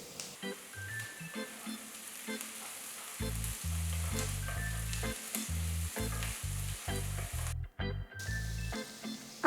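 Onions and chopped capsicum frying in a pan for paneer bhurji, a steady close sizzle with scattered stirring clicks, partly masked by a loud pulsing low tonal background sound.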